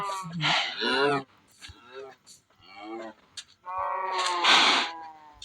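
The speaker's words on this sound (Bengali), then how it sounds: "সুন্দর স্বাস্থ্যবান একটা গরু কিনবো" A cow in the game Minecraft moos several times, with drawn-out, close, fairly loud calls separated by short pauses.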